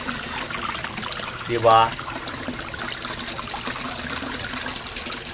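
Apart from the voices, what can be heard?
water falling in a koi fish pond waterfall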